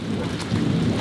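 Heavy rain pours outside with thunder rumbling, forming a dense, steady low roar with no pauses and no voices.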